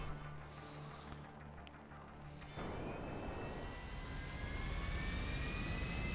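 Jet aircraft engines in a GTA game rumble at first, then surge into a loud, sustained roar with a rising whine as the jets throttle up and stay near and steady.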